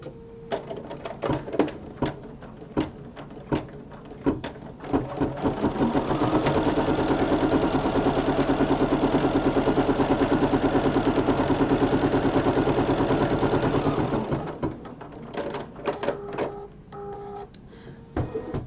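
An embroidery machine sewing the seam of an in-the-hoop mug rug, running in a steady, rapid mechanical rhythm for about ten seconds, framed by quieter clicks and shuffling handling before and after.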